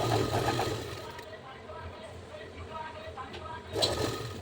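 A sewing machine stitches the lining of a blouse in short whirring runs near the start and end, with quieter pauses between them and a voice partly overlapping.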